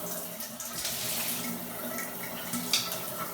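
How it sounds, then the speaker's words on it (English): Cold shower water runs steadily in a steady hiss of spray, close by and continuous, with a brief louder splash near the end. "I'm just going to start by turning my shower cold."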